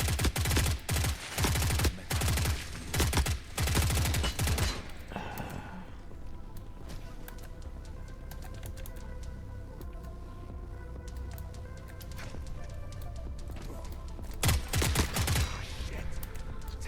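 Gunfire in The Forever Winter video game, fought in a frozen swamp: rapid, loud volleys of automatic shots in the first few seconds, then a quieter rumble and a brief burst of fire near the end.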